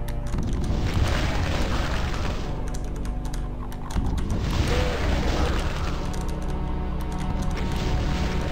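BFG blasts and heavy explosions in Doom on the Sunlust Map 30 speedrun, a continuous rumbling barrage of booms with a fresh surge about halfway through, loud and dense with no gaps.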